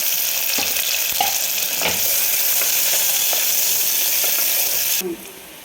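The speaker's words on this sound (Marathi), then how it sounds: "आपण याच्यामध्ये थोडासा कांदा तळून घेणार आहे" Oil sizzles loudly and steadily as onions fry, with occasional soft stirring clicks, until the sizzle cuts off abruptly near the end.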